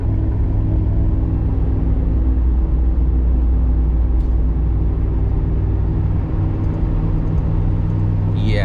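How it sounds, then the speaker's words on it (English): A vehicle engine with a misfire drones loudly and steadily from inside the cab while driving in third gear, a constant low rumble with slight unevenness. "It's definitely like a misfire."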